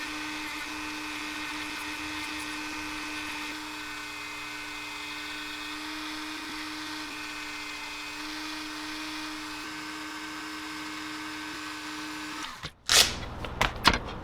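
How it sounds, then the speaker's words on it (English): A small rotary tool drilling a small hole in a swimbait whines at a steady high pitch for a long stretch, then cuts off abruptly with a few clattering knocks. "I think I'm gonna have to drill a little hole in the back of these tiny ones"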